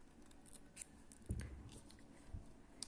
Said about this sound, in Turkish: Daha sonra iplerimi kesiyorum buradan.